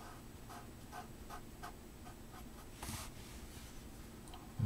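A pen scratches quickly across paper in a series of short, rhythmic strokes, filling in a large black pupil on a drawing of a penguin, close-up and faint over a low room hum.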